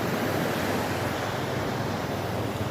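A steady broadband wash of sea waves rolls onto the shore on a fishing coast in the morning, continuous and fairly loud, with no voices.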